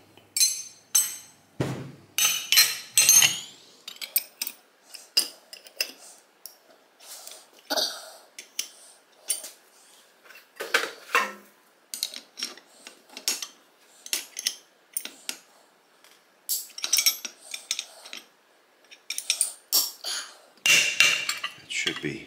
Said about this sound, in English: as I crank on this nut, it should pull the bearing up and out of there.